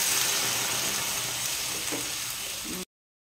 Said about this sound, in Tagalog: nagisa na ako ng bawang